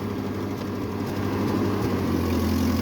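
A 1948 Ford 8N tractor engine runs steadily in third gear, a low, continuous rumble close by with a constant idle-like drone and no talk over it.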